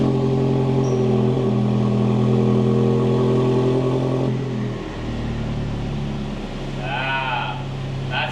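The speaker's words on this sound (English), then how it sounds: "First startup in the garage." A 2024 Toyota Tacoma four-cylinder fitted with a MagnaFlow exhaust idles loudly and steadily in a garage on its first startup, then the engine note shifts and settles around the midpoint, with a few brief higher squeaks near the end.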